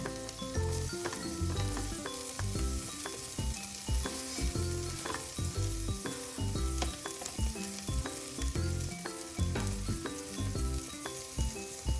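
Coriander and fenugreek leaves fry in hot oil for chicken biryani, with a continuous close sizzle and rhythmic stirring clatter of a spoon against the pot throughout.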